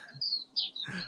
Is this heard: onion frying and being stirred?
no